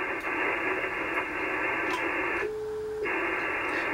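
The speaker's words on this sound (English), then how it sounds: "I'm going to lower the power here to tune it up to 20 meters here. You should be able to hear the tune here" Icom IC-7410 transceiver tuning up on the 20-meter band, a hiss of band noise with a steady tuning tone that sounds for about half a second, interrupting the static before it returns.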